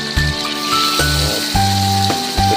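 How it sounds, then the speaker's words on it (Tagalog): Steady sizzling of pork frying in a pan over low heat, a constant crackling hiss under louder background music. "Prituhin lang din naman natin ito ng bagya."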